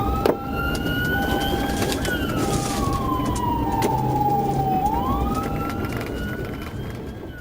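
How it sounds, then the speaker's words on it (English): A police car siren wails loudly during a traffic stop, its pitch rising and falling in long sweeps that hold steady over a rough background rumble. "activated emergency lights and siren to initiate a traffic stop"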